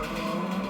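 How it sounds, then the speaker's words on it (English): An Audi race car roars steadily in the GRID Legends racing game on a phone, a loud sustained engine drone with some tyre noise and no pauses over a brief moment. "now I'm gonna be driving that Audi"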